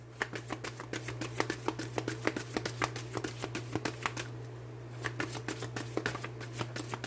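A tarot deck being shuffled by hand, with repeated crisp riffling flicks and card snaps in an irregular rhythm, close and clear, with a steady low hum underneath.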